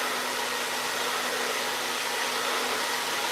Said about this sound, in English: this hover diffusing until I start to feel that the outside of my spirals are like almost stiff to the touch and relatively dry